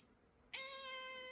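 A cat, a mother with her kitten, lets out one long plaintive meow that starts suddenly and holds a steady, clear tone until the end, close and fairly quiet against a still background with no talk.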